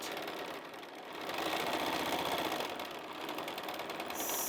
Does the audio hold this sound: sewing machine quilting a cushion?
yes